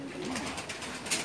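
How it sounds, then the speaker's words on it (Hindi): A blue pigeon coos close by, a short low throaty burst with a soft rolling tone, heard alone for about a second. "एक नीला कमगर कबूतर, इसका शौक है।"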